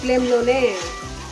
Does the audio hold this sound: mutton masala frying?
yes